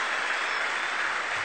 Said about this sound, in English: The crowd rising, applauding him off the ground.